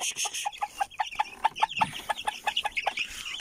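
Hens and young chicks cluck in a coop, a steady, busy run of short rhythmic clucks and peeps close by, continuing with no one speaking.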